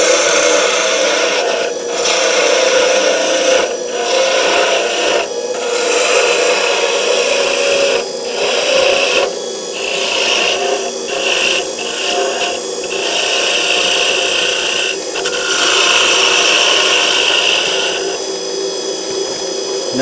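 Wood spinning on a lathe is cut with a turning tool into a cone, giving a steady, loud scraping and rasping hiss that runs without a break for about twenty seconds, with brief dips and swells as the tool moves along the piece.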